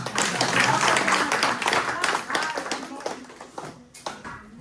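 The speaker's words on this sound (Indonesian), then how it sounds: "Oke, mari kita sambut dengan tepuk tangan." Church congregation applauding to welcome a guest and his wife, a dense burst of clapping that fades toward the end, with voices mixed in.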